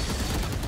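Gunfire in the tactical shooter Valorant, a short, loud, unbroken spray of rapid shots filling the whole moment with no voices.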